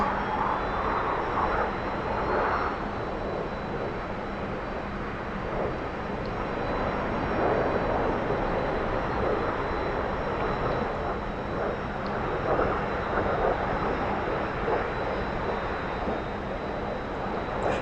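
A T-45 trainer jet's engine in the DCS flight simulator game roars as a steady, loud, continuous whine and rumble, with small shifts in power and no talk over it.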